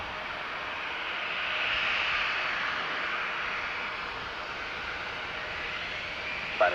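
A jet rolls and climbs away from runway 10 right at Dublin Airport, a steady broad roar that swells gently and then holds at middle distance, heard alone without any voices.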